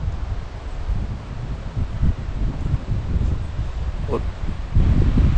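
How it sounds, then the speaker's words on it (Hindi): Cold wind blows steadily across an open hillside camping spot in Gabin Jabba, Swat, as clouds roll in, buffeting the microphone with low rumbling gusts that swell near the end, while a voice speaks briefly. "बिल्कुल ठंडी हवा चल रही है।"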